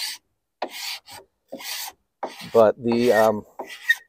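A carbide scraper with a 2.5-inch blade strips old finish from a 1930s Heywood Wakefield wooden dresser. Three short, loud rasping strokes come up close, followed by a brief spoken phrase and one more scrape.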